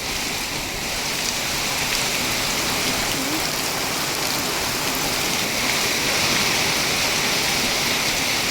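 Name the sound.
heavy rain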